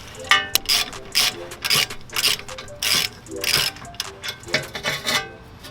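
A ratchet wrench clicks in quick bursts of repeated pawl ticks while a brake bolt is backed out on a Lexus IS300 during an LS400 brake conversion, close and fairly loud with pauses between strokes.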